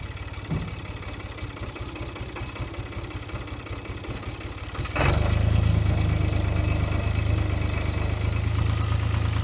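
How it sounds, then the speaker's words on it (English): A tractor idles with a chugging diesel rumble, then its engine load rises abruptly as the front end loader lifts a 1965 Chevrolet C10 truck, holding a heavier steady drone; nearby, no talking. "let's use the front end loader to pull it out instead"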